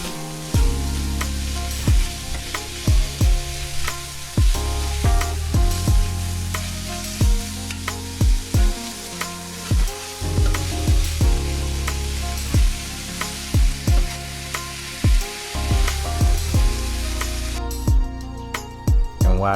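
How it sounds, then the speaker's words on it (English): Sausage browns in a hot pan with a steady loud sizzle, broken by repeated scraping, clanking stirs of a utensil against the pan in an uneven rhythm, close up with no voices. "we're just trying to brown our sausage, y'all"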